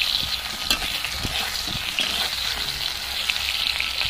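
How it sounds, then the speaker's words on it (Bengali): Green banana slices fry under a lid in a covered pan, giving a steady, close sizzle with soft stirring clatter throughout and no voices. "এইরকম ভাবে আপনারা একটু ঢাকনা দিয়ে দিয়ে ভেজে নেবেন"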